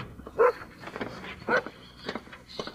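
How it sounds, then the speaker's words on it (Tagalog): A dog barking outside a house: two short, muffled barks with a couple of faint yips between them, heard at a distance under soft background noise. "tumatahol yung aso sa labas"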